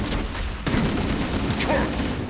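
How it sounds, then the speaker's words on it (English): Gunfire from Halo Campaign Evolved crackles and booms in a dense burst, a sharp loud onset partway in followed by continued shots and combat noise, with a voice shouting briefly amid it. "Enemy fire!"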